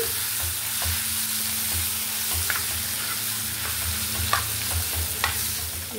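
Pounded amla chutney fries in hot oil with a continuous close sizzle, while a spoon scrapes and taps the pan now and then, and nobody speaks.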